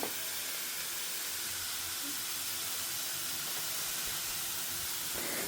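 Spices, tamarind and tomato roast in a pan for a festive South Indian lunch, giving a steady, soft sizzling hiss that runs unbroken throughout at moderate volume with no talk over it.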